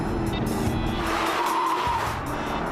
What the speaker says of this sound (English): The Porsche trumpets like a herd of angry elephants.